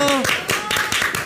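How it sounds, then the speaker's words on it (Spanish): A studio audience on a Spanish-language late-night show gives a brief burst of clapping, a few sharp claps overlapping a voice. "un aplauso a la doctora"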